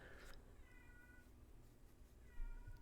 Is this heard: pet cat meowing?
yes